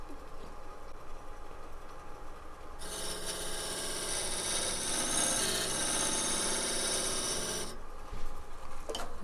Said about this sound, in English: I'm using this corner of the parting tool to scrape that shoulder